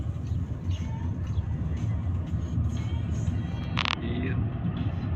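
Road noise fills the cabin of a moving car in a steady low rumble, with faint rattles and a brief sharp click partway through.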